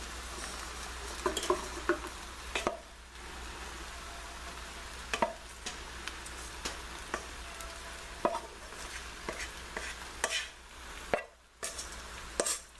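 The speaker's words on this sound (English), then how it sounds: "Now we're going to mix in the quinoa." Quinoa being stirred into hot fish and black beans in a pan, steady close patter and soft scraping of a spoon through the grainy mixture, with a low constant hum underneath and no talk.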